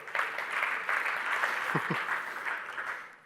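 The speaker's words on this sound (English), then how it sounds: "Applause for Dennis." A conference audience applauds to welcome a Volkswagen presenter at a VR collaboration talk, moderate steady clapping with a brief low thump partway through, fading at the end.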